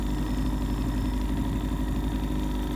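A two-stroke boat engine idles close by, a constant low, throbbing rumble with a buzzy edge that runs unbroken and then cuts off abruptly at the end.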